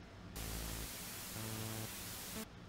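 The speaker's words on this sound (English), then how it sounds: "noise in the left channel and saw bursts at varying pitches in the right channel" A broadband noise test signal from a stereo speaker setup, mixed with short sawtooth bursts at changing pitches; a harsh, steady hiss that switches on and cuts off abruptly after about two seconds.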